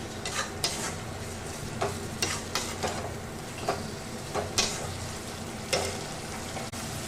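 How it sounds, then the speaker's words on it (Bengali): Chicken keema sautéing in a pan, a loud continuous sizzle broken by repeated scraping knocks of a spoon against the pan as the mince is stirred. "চিকেন কিমাটাকে এর মধ্যে আমি দিয়ে দিচ্ছি দিয়ে এটাকেও ভালোভাবে একটু কষিয়ে নেব"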